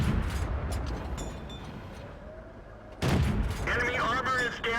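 Tank cannons fire in World of Tanks, booming heavy shots with low rumbling decay. A first blast opens the clip and a second loud one lands near the three-second mark, with voice chatter and game voice lines around them.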